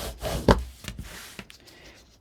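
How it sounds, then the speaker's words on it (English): Paper hinges for a 7x7 mini album are burnished with a tool in several quick back-and-forth rubbing strokes, close and fairly loud, one sharp scrape standing out near the start. "And I'll burnish this one more time"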